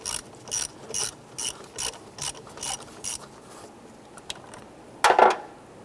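A ratchet loosens the positive battery terminal nut on a 1995-2001 Ford Explorer, with a series of short, evenly spaced clicking bursts followed by one louder, rougher burst near the end.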